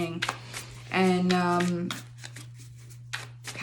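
Tarot card decks being shuffled by hand, soft riffling and slapping bursts in short irregular runs, with a steady low hum underneath and a voice briefly heard.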